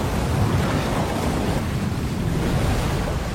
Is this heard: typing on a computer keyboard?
no